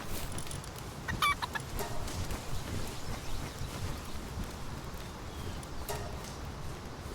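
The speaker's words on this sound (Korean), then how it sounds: "꼬꼬닭을 배치하고" A chicken clucks faintly in the video game Palworld, a soft burst of clucks and chirps over quiet in-game background sound.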